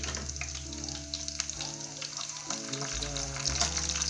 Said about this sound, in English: pour the onions and allow it to fry for just a few seconds